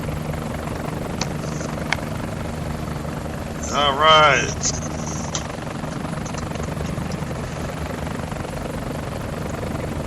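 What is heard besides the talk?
helicopters approaching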